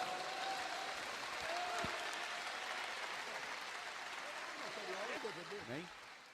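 A church congregation claps together in a sustained, fairly distant wash of applause, with a voice rising faintly near the end.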